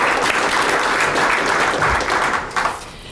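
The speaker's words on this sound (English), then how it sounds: "You deserve an applause" Audience applause at a Pizza & Politics event at South Central College in Faribault, a steady dense clapping from a crowd that fades near the end.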